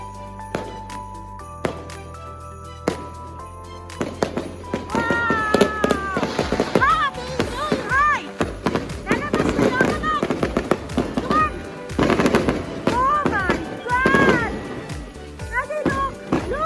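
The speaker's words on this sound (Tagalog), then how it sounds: "Fireworks sa amin, di ba? Wow!" New Year's fireworks and firecrackers go off in rapid, irregular bursts of sharp cracks and pops, some near and loud, some farther off, with voices talking and exclaiming over the explosions.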